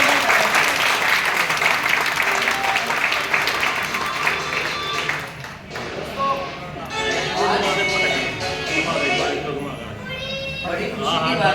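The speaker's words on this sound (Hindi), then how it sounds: "जोरदार तालियां मारें।" Audience at a welcome event in Kurukshetra, Haryana, applauding loudly and steadily throughout, with crowd voices and children's chatter mixed into the dense clapping.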